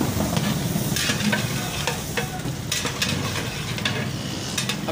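Two kilos of thickly cut potatoes frying with oil-rich masala in a large pot for chicken biryani, a loud, dense sizzle with repeated stirring scrapes, close and without speech.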